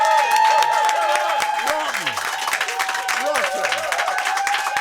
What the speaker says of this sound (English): Can we just hear the biggest round of applause ever for John Cleese